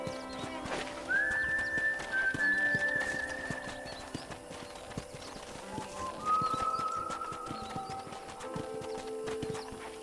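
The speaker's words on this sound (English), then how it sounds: "let's see if you can still ride a horse" Horse hooves clip-clop at an easy pace while riding through a Wild West ranch property in Red Dead Redemption, soft and steady, with an occasional whistle-like tone and faint bird calls in the background, no voices.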